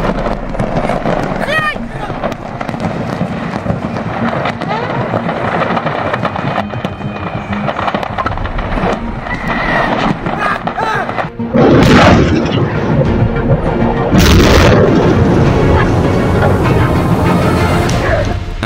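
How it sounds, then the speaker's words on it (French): Ammunition depot explosions in N'Djamena, Chad, heard as a dense, continuous rumble with loud bursts near the end, while someone speaks over it. "Un dépôt de munitions explose à N'Djamena."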